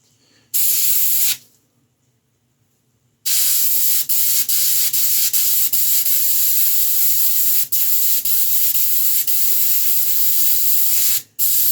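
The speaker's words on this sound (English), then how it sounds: "Gonna be a constant balance of adjusting the airbrush." Airbrush spraying paint onto a 1/6 scale Predator sculpture, a loud steady hiss that cuts out briefly and returns with small interruptions, close up.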